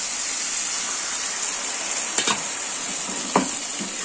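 Turmeric, cumin and coriander powder sizzling in a pan as a little water goes in for an egg curry, a steady hissing fry with a couple of sharp clinks of utensils, no voices.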